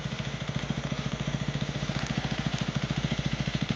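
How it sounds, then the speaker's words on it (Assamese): A motorcycle engine idles just after being started, with a steady, rapid, loud chugging rhythm and a constant mechanical drone throughout, heard close up with no talking. "বাইকখন উঠাই দিলে"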